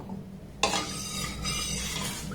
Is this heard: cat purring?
no